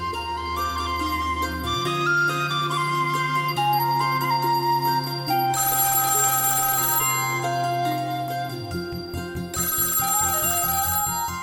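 A mobile phone ringtone plays loudly and continuously as a bright, repeating synthesized melody, with layered tones and bursts of brighter chime-like notes, heard alone without talk.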